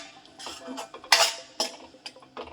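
A spoon stirs curd into a phool makhana curry in a pan, giving a few close scraping and clinking strokes in an uneven rhythm, with the loudest knock near the middle and no voice.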